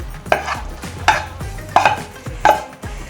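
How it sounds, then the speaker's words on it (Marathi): Thick coconut vadi mixture poured and scraped from a pan into a plate, with four distinct thick clatters and scrapes spaced about evenly, close and moderately loud, and no talk. "आता आपण ताटात ओतून घेऊया अशा रीतीने."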